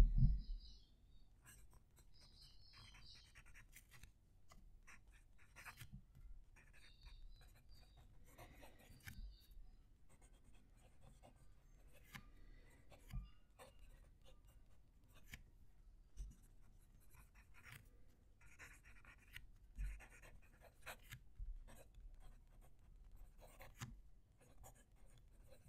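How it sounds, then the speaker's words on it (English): Fountain pen nib scratching across paper close to the microphone, soft irregular strokes and taps in a quiet room, faint throughout with brief louder scrapes. "I'll move the mic so you can hear the pen writing."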